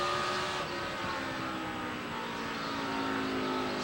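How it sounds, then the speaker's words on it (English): NASCAR stock cars roar past at speed during the 2006 Crown Royal 400, a continuous wash of engine noise that swells and holds without a break, with no voices over it. "Fast cars coming."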